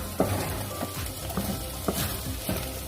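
Rice for abalone porridge is stir-fried in a pan with a steady close sizzle. A utensil scrapes and taps against the pan at a regular pace, and no one speaks.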